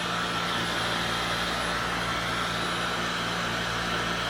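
A Dyson Supersonic hair dryer runs steadily at close range, giving a constant, even whoosh of airflow with a faint high whine and no pauses or voices.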